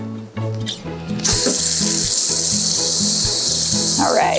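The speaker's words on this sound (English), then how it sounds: "So we're just gonna use water, and we're gonna use cold water" Cold water gushes from a tap onto a giant yarn blanket to rinse out coffee, a loud steady hiss starting after a second of quieter rustling, over a background of music.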